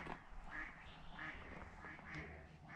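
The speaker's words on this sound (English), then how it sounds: "There's two ducks nesting in the pond." Two ducks nesting in a pond quack in short repeated bursts, fairly faint, over a quiet outdoor background.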